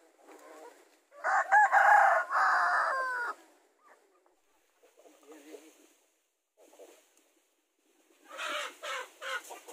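A free-range rooster crows loudly and close by, followed by soft clucking and scattered calls from hybrid chickens, then another burst of crowing near the end.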